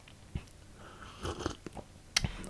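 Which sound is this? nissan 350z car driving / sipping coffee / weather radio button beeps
sipping coffee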